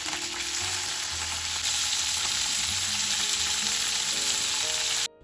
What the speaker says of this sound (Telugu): ఆయిల్ కొంచెం వేడయ్యాక ముందుగా కట్ చేసుకున్నటువంటి పచ్చిమిరపకాయలను మరియు టొమాటో ముక్కలను మరియు బెండకాయ ముక్కలను అన్నిటిని ఫ్రై చేసుకోవాల్సి ఉంటుంది